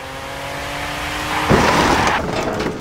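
A toy-scale car races past a construction site, a steady engine hum swelling into a loud, close rush with a brief tire-squeal burst midway, then fading.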